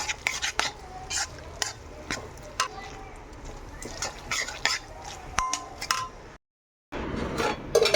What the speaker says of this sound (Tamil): ஸோ இப்போ இதை வந்து நல்லா மேஷ் பண்ணிக்கோங்க ஃப்ரெண்ட்ஸ்.